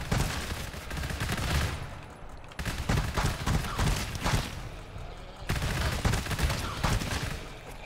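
Rapid machine pistol gunfire in a tactical shooter video game, three sustained dense bursts of rattling shots separated by brief pauses, loud and close.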